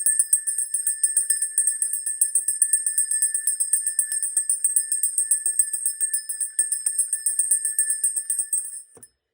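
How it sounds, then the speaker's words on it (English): A small bell rung rapidly and repeatedly, producing a bright, continuous tinkling jingle with fast even strikes for several seconds before it stops, with no voices. "I'm going to ring my bell."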